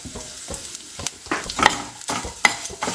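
Pieces of idli being tossed and stirred in hot oil with homemade idli podi, giving a few quick scraping stirs over a light, close sizzle.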